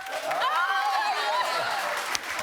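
Studio audience at a daytime talk show applauding, a steady wash of clapping and murmur that holds evenly for a couple of seconds.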